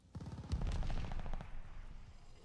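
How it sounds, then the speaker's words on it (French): Mortar shells fired in Call of Duty: Vanguard, a short rapid burst of booming launches and blasts that rises sharply, then fades into a rumbling tail. "J'envoie des obus de mortier."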